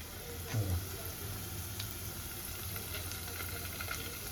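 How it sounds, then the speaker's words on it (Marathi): Onion and ginger-garlic paste frying in a pan for a veg kolhapuri dish, a faint steady sizzle with a brief louder stir near the start. "थोडीशी आलं लसणाची पेस्ट देखील आपण थोडीशी फ्राय करणार आहोत"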